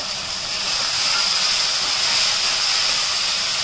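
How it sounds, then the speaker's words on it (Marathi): Tomato and garlic-ginger paste sizzle loudly in a pan of fried onions, a steady, close hiss that holds without a break for a few seconds. "टोमॅटो तर लसूण अद्रकची पेस्ट घालूया."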